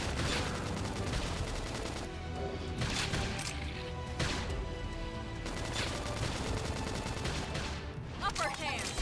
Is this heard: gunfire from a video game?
yes